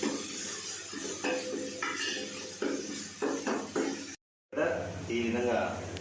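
Ginger paste being stirred in a pot while cooking biryani, with clinks and scrapes of a spoon against metal and a soft sizzle underneath, while someone talks over it; a brief dropout interrupts the sound.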